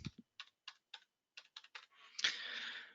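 A run of quick, crisp keystrokes on a computer keyboard as a telephone number is entered, spaced clicks in small bursts, then a brief rushing noise at the end; quiet and close.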